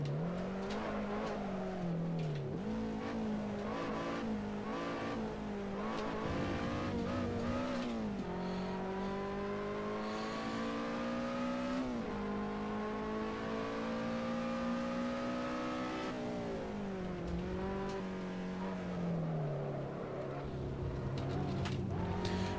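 A Lotus Elise in the Assetto Corsa racing game on the Nordschleife, its engine droning steadily and rising and falling in pitch through gear changes, with tire squeal mixed in as it corners; loud and continuous with no talking.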